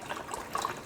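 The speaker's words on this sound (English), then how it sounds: "I'm going to rinse off the little flecks of shell" Running tap water rinsing flecks of shell off peeled hard-cooked eggs, a soft, continuous splashing trickle with small spattering bursts, close but quiet, without voices.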